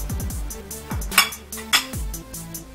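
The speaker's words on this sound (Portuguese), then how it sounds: "E vamos misturando" Brownie batter with flour being mixed in a bowl: a spoon or whisk clinks and scrapes against the bowl in an irregular rhythm, with two louder knocks, close and with no talk.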